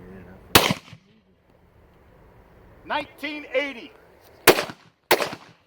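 Mini .223 rifle rounds crack loudly at a Safariland Hardwire 68 IIIA ballistic panel: one shot, a stretch of talking, then two more close, sharp shots in quick succession.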